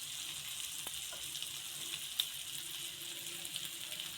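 Chicken filling with added cabbage cooking in a pan, giving a steady, soft sizzle with an occasional light tap, heard alone at low volume.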